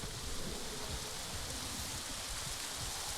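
Steady rain falls in the New World video game world, a constant soft hiss of rainfall with no voices, even and unbroken throughout.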